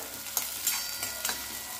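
Chopped onion frying in a pan on low heat, a continuous close sizzle with a few soft stirring scrapes, no talking.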